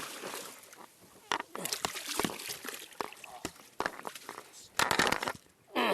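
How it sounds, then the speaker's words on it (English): A striped bass is set into the water from a boat on Long Island Sound, making small splashes, trickles and sloshing bursts that come and go irregularly at close range. "Set him in the water right here."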